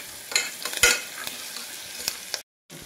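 Cabbage and curry leaves frying with green chilli and chilli powder in a pan, a steady close sizzle with a few sharp crackles and stirring scrapes, ending in a brief cutoff before the sizzle resumes.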